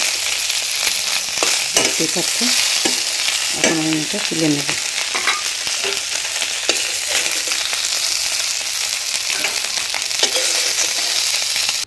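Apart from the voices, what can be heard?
frying fish head in a pan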